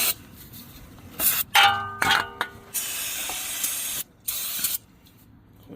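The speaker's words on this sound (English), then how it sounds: "I'm gonna spray it down with carpet cleaner first" Aerosol can of carpet cleaner sprayed onto a brake caliper on a 2014 Impala LTZ, several close hissing bursts of varying length with brief pauses and a light clink of the can.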